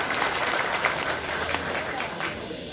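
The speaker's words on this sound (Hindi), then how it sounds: "इसके लिए आप अपने आप के लिए जोरदार ताली बजा दें" Seminar audience in India clapping for themselves, a dense, steady burst of applause filling the room for a few seconds.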